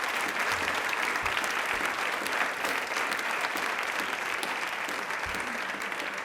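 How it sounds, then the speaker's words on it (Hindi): A studio audience at a televised quiz programme applauds continuously, a thick even wash of clapping that stays at moderate level throughout. "एक बार तालियां जोरों से बजा दीजिए प्लीज"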